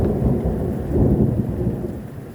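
A thunderstorm over Pertuis rumbles with deep rolling thunder and steady rain, loud and continuous, with no voices heard.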